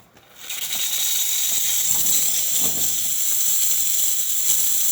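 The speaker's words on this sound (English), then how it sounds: "steam's coming out really well" A steady, loud hiss of steam rushing from the steam wand of a freshly serviced DeLonghi Magnifica XS espresso machine, starting abruptly and holding constant with faint rattling underneath.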